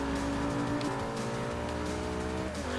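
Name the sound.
Lamborghini Reventon accelerating in Forza Motorsport 3 video game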